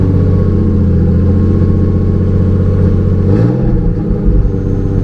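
A turbocharged BMW E36 engine running with its MAF sensor unplugged, idling high with a loud, steady close-up drone and harmonic hum, then a brief dip and rough stumble near the end.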